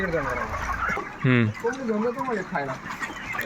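Chickens on a poultry farm: one loud, close squawk stands out, followed by several shorter clucks and calls, while people talk nearby over the flock.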